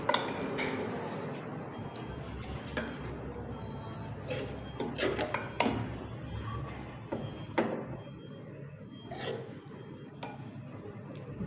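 Aloo qeema being served onto a dish, with metal utensils clinking and scraping against pots and plates in irregular, fairly close bursts, no one speaking.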